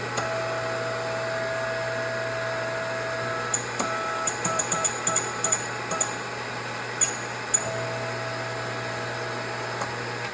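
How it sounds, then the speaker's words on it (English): Scotch-Brite pad scuffing the gloss off a cleaned M-series supercharger shaft during a rebuild, heard as a steady whirring hum with a run of light scratchy ticks and clicks partway through; no talk. "I like to Scotch-Brite the shiny off. Not real aggressive, just take the gloss off."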